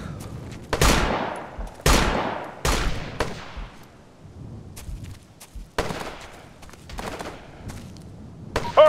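Suppressive rifle and machine-gun fire in Operation Flashpoint: Dragon Rising: a string of sharp, loud shots with ringing decays, several close single cracks then lighter scattered bursts, with no talk over them.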